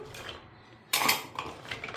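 Hard clinks and clatter of a mixer-grinder jar and metal pieces being handled, a brief quiet stretch then a louder burst of knocks close by.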